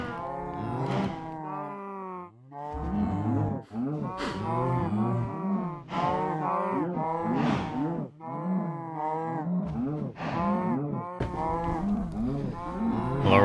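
Minecraft cows packed into a compact breeder and cooker moo again and again, loud, close and overlapping, in a near-continuous series of drawn-out lowing calls.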